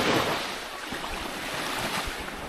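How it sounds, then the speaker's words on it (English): Sea waves wash onto a beach in Protaras, Cyprus, a steady broad surf rush heard close up, with wind buffeting the microphone throughout. "Sorry, waves."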